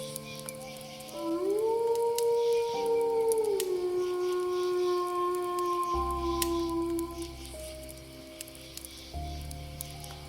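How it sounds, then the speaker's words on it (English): Several drawn-out howls, wolf-like and eerie, rise and hold in layered overlapping tones, loud and sustained over about ten seconds with faint rustling beneath and no speech. "something unnatural howling into the moonlight"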